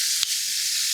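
Chicken fried steak frying in a pan, a dense, loud, steady sizzle with one brief crackle near the start.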